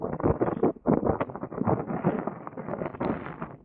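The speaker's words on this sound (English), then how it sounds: "It's windy right now." Gusts of wind buffet the microphone outdoors during a rollerblading session, loud rumbling bursts that surge and drop in quick succession.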